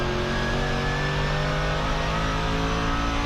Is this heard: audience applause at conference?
no